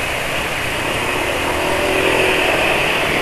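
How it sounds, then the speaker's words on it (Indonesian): Motorcycle engine running steadily after an oil change, a continuous close, dense broadband drone with no distinct revs or pauses. "Suara mesin sekarang masih halus."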